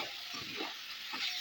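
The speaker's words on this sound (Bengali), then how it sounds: "দিয়ে ভালোভাবে নেড়ে চেড়ে মশলার সাথে ফুলকপি আলুটা একটু কষিয়ে নেব" Cauliflower and potato pieces fry and get stirred with spices in a pan, a steady close sizzle broken by soft scraping strokes of the spoon, with no voices.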